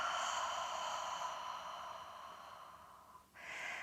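A deep, steady yoga exhale of airy breath streams out for about three seconds, fades, then a fresh breath rises near the end, close and quiet with no talking.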